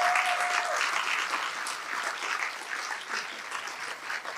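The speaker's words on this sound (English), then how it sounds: "How about a round of applause for all of our teachers here tonight" An audience applauds teachers at an evening awards ceremony, with steady, dense clapping filling the room throughout, and a brief tone sounds near the start.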